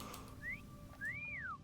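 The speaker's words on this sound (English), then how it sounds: "I don't think that's the right whistle" Two rising-and-falling whistle calls sound in a World of Warcraft game, a short upward whistle followed by a longer arching one, faint over a steady ambient hum.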